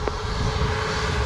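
A steady, loud airplane engine roars nearby at Montego Bay airport, a continuous droning rumble with a sustained tonal hum and no breaks.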